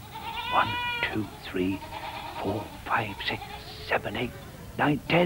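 A billy goat bleats several times in short wavering cries that rise and fall, heard close by under a voice slowly counting aloud, with the bleats mixing into the counting.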